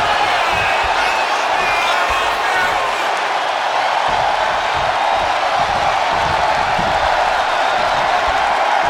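A WWE 2K26 video game arena crowd roars steadily and loudly for CM Punk during a match against JBL. The dense, even cheering fills the whole stretch, and faint commentary may sit beneath it.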